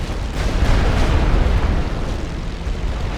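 Artillery barrage in The Great War: Western Front video game, heard as a loud, continuous rumbling roar of overlapping booms that fades slightly toward the end.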